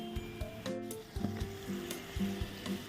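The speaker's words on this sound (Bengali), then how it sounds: "আমি ঢাকনাটা লাগিয়ে দিলাম" Potatoes and beetroot frying in a covered pan, a close, continuous sizzle with light crackling and faint scraping or rattling from the pan and lid throughout.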